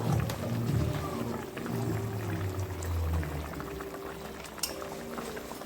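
Hilsa fish curry bubbles and simmers in a pot, a close, steady wet burble with low rumbling gurgles and occasional sharper pops, no voices over it.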